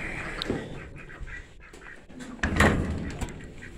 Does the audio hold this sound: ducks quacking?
yes